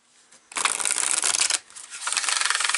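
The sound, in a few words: tarot cards being shuffled and cut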